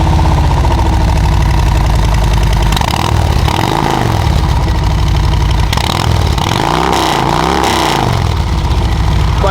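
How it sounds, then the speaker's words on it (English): A 2023 Harley-Davidson Road Glide Special with a stage 1 tuner and Reinhardt aftermarket exhaust idles loudly with a deep, lumpy rumble, punctuated by a few throttle blips that swell and drop back. "Bike sounds really great"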